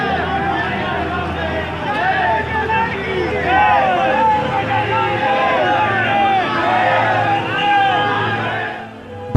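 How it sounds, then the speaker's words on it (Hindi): Huge crowd packed onto a road in Saharanpur, a dense roar of many voices shouting and chanting over a low rumble of traffic, continuous and close throughout. "सहारनपुर की सड़क पर लोगों का भारी हुजूम, भीड़ इतनी कि पैर रखने की भी जगह नहीं बची"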